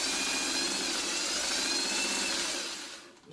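A sewing machine runs steadily for about three seconds, joining small four-patch quilt pieces, then the whirring motor winds down and stops at the end.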